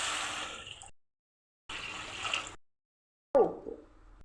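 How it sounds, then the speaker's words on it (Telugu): Water poured into a pan of fried raw mango, short bursts of splashing and trickling liquid separated by silent gaps, close and fairly quiet, ending in a brief sizzle-like splash. "ఇప్పుడైతే వాటర్ వేసేద్దాం"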